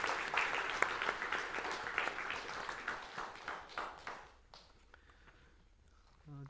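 Church congregation clapping together during a Sunday service, a dense burst of applause that thins out and fades to quiet near the end.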